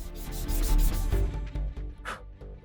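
Rapid, rhythmic rubbing strokes of sanding against a surface, close and fairly loud, easing off into lighter scrapes toward the end.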